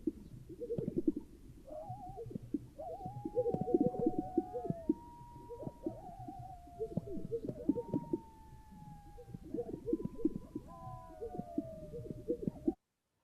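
Repeated low bubbling pops and rising whistle-like notes from displaying male greater sage-grouse, rhythmic and layered, several birds calling around at moderate distance with no talk.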